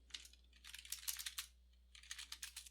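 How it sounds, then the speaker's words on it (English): Quiet typing on a computer keyboard, rapid clustered keystrokes in two bursts separated by a short pause, close and soft with no talk. "So I'm just going to type data here."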